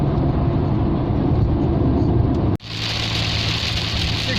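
A Rover 45 cruising on a motorway at about 70 mph gives a steady interior drone of engine and road roar, broken by a sudden brief dip before the hum resumes, brighter and hissier.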